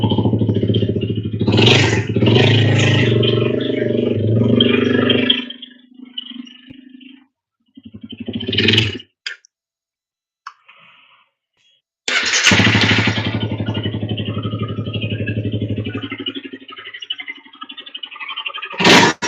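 A 2015 Honda CBR300F motorcycle engine cranks and runs roughly, sounding as if it is seizing, with loud labored bursts, a cutout into near silence, then a renewed harsh rumbling run up close.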